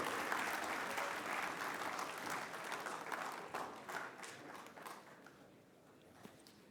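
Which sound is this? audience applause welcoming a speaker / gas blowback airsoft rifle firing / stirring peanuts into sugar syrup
audience applause welcoming a speaker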